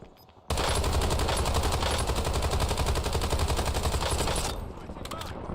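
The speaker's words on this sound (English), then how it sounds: "let me reload and shoot at you some more" Rapid automatic gunfire from the video game Warzone rattles in one long sustained burst, loud and dense, then eases off near the end.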